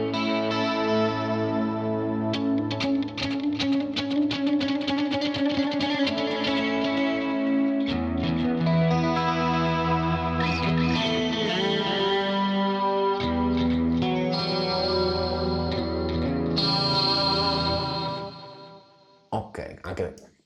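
Electric guitar played through a Boss CS3 compressor model on a Quad Cortex, a steady run of compressed notes and chords that holds even and loud for about eighteen seconds and then cuts off.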